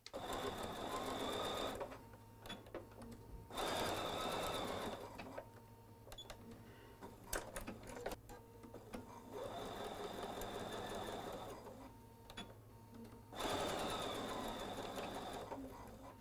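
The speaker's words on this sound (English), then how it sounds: "Let's go sew them in before they start flipping all on their own." A sewing machine stitches the handles into a tote bag in several bursts of steady whirring, separated by pauses with quiet handling sounds, all close and fairly soft.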